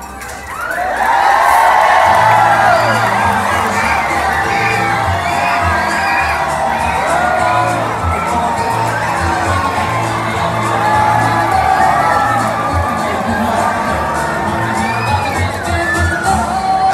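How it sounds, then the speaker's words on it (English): Loud crowd of adults and children cheering, whooping and shouting at a county fair barnyard pig race, a dense sustained roar of excited voices with high yells cutting through. "Let's get ready to cheer them on, our country boy, racing pigs."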